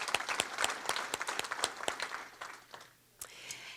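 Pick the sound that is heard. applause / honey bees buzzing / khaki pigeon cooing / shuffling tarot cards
applause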